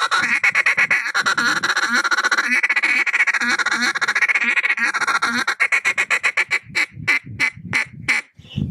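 Feed chatter is played on a duck call by a competitive caller: a rapid, continuous rolling stream of clucking notes, loud and close, easing into a few separate quacks at the end.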